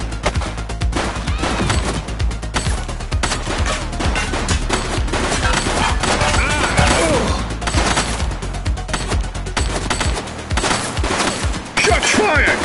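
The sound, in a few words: gunfire in the video game The Precinct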